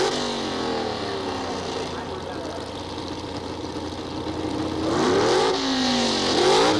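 Engines of a modified 1974 Vega drag race car and its rival rise and fall in pitch as they rev and launch at the 1976 NHRA Gatornationals, heard under an announcer's commentary.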